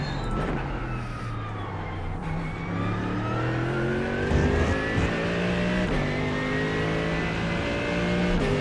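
Mercedes GT3 race car engine in iRacing at Le Mans on the Mulsanne straight, a loud steady high-revving drone with rising gear harmonics climbing through shifts, continuous throughout with no talk.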